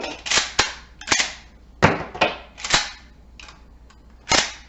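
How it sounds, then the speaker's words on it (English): Lever action of a Winchester 94 rifle being cycled by hand to unload the chamber and magazine tube: a series of about eight sharp metallic clacks and snaps in irregular pairs, close and crisp, with no talking. "we must manually cycle the action to remove the ammunition from the chamber and the magazine tube"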